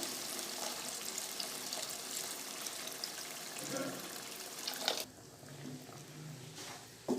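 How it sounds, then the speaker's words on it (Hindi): Water pours steadily into a cooking pot of chicken shorba for several seconds, then stops; a few faint clinks and kitchen sounds follow. "अब इसमें 4 कप पानी ऐड करेंगे।"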